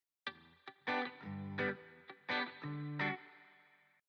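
Electric guitar played through an Amplitube amp simulation with spring reverb, a run of separate picked notes and chords with short pauses, each leaving a reverb tail, with no voices.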